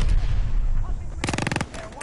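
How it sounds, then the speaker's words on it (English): Grenade and gunfire in the Call of Duty: Vanguard multiplayer video game on a beach map, a burst of rapid crackling shots and blasts over a rumbling, noisy battle background, loud and close. "Got the grenade up there, dude."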